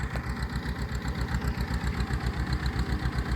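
Tractor engine running steadily in a pomegranate orchard during fungicide spraying, a close, continuous low throbbing with an even rapid pulse and no talking.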